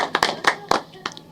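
A handful of sharp, separate hand claps for Pratyusha at a clothing collection showcase, a quick uneven burst of five or six claps close by, mixed with people talking.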